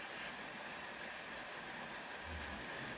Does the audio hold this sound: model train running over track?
yes